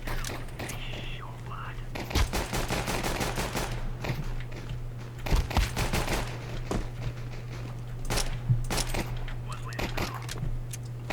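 Repeated gunshots in a PC first-person shooter game ring out in short bursts and single cracks throughout, over a steady low hum, with soft voice-like sounds in between.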